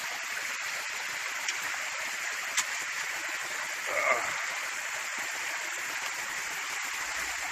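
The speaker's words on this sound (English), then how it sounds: "me being in the creek, wading up it and down it, does get a little bit dirty" Creek water flowing steadily around someone wading up and down the creek, a soft continuous rush with a few small splashes and knocks from footsteps.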